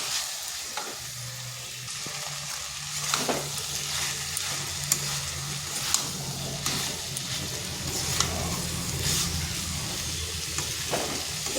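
Soybean chunks, potato and chickpeas fry with spices in a pan, giving a steady close sizzle with scattered stirring scrapes and clicks throughout, and no talking.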